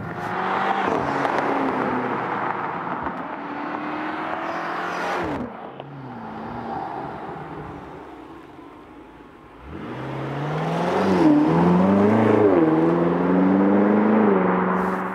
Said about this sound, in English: then the car automatically goes a gear down and shifts differently